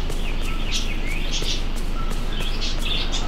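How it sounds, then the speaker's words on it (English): Birds in the video game Dreamlight Valley chirp and tweet in repeated high bursts over a steady ambient game background, with no talking. "My birds are so loud."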